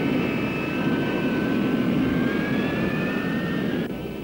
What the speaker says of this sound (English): North American F-100 Super Sabres, designed 17 years earlier, leave their protective revetments on an attack mission with GP bombs.